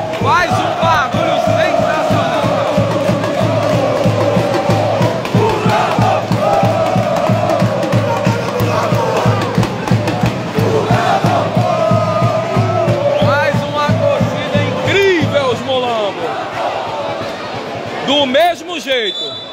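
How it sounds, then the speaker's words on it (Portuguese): Football supporters at a cup semifinal match crowd together in loud, continuous cheering and chanting, with rhythmic shouts pulsing throughout and voices rising near the end. "A torcida dos mulambos faz um barulho"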